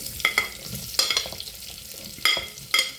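Cumin seeds splutter in hot oil for chicken curry, giving sharp intermittent pops and crackles over a quiet, steady sizzle, close up with no voices.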